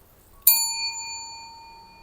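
A single bright notification bell ding strikes once and rings out cleanly, its tone slowly fading over about a second and a half against near silence.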